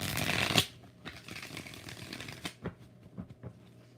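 Tarot cards shuffled by hand in three quick bursts: a dense riffling flurry at the start, then softer shuffling and a few sharp card slaps, close and alone with no talk.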